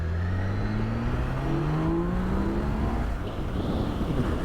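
A 2022 BMW K 1600 B motorcycle launching hard: a loud, close engine roar with pitch climbing steadily through the revs, holding strong for the whole stretch, no talking.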